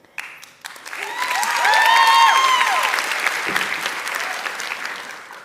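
An audience at a TEDx Youth event bursts into applause that builds to a loud, sustained wash of clapping. It eases off gradually over several seconds, with whistle-like tones rising through the middle of the clapping.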